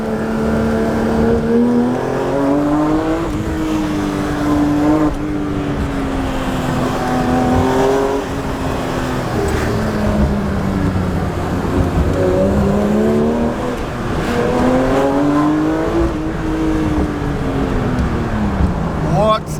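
A brand-new Porsche 911 GT3 RS engine revs hard, its pitch climbing and falling again and again through repeated acceleration and shifts, loud and continuous throughout.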